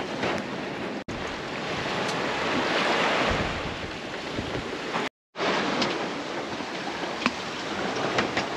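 Ocean surf roars steadily at sea on a solo sailing voyage to Trinidad while wind buffets the microphone, the noise swelling and easing, with one brief dropout to silence partway through.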